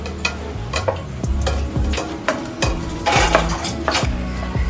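Onions and ginger sizzle in a pan while a metal spoon stirs them, giving repeated scraping clinks over a steady frying hiss at close range.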